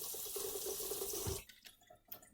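A grater is rinsed under a running kitchen tap, a close, steady splash of water that cuts off partway, followed by a few faint drips and clatters.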